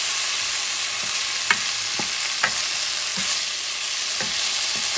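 Garlic and malt vinegar stirred in a hot frying pan for a rib and barley stew, giving a steady bright sizzle broken by several sharp scrapes of a utensil against the pan.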